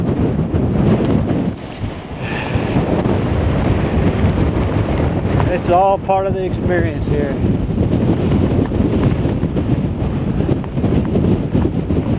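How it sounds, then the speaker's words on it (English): Strong mountain wind at about 4,116 feet on the Appalachian Trail, gusting at roughly 40 to 45 mph and roaring hard against the microphone without a break, while someone talks briefly in the middle. "Sorry, the wind blowing me around so much I can't keep my balance."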